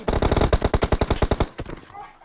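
A rapid burst of automatic gunfire in PUBG Mobile, about fifteen sharp close shots in quick rhythm over a second and a half, followed by a few more scattered shots that fade out.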